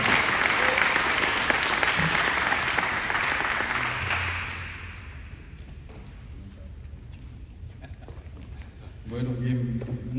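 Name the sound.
audience applause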